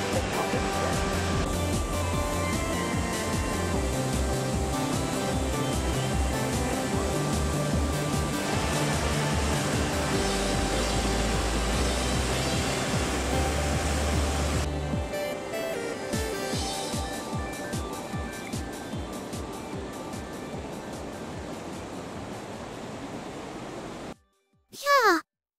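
Masutobi waterfall at Fukiware Falls pours in a steady broadband roar that holds for most of the clip, with a voice talking over it, then fades out near the end.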